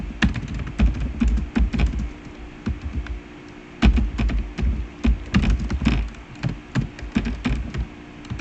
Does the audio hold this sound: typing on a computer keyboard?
yes